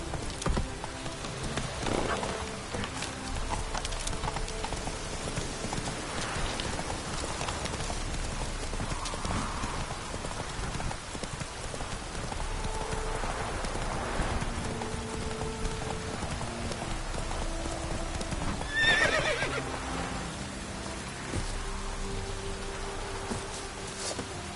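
Hooves clip-clop steadily as a horse gallops in The Witcher 3, a continuous rhythmic patter with a rain-like wash of game ambience behind it and a few scattered in-game sounds.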